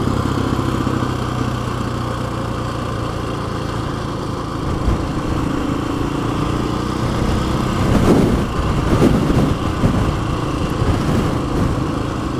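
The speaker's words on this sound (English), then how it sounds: "Wind blows through here" Strong wind blowing at Crown Point Vista House, a loud continuous roar buffeting the microphone, with gusts swelling stronger partway through.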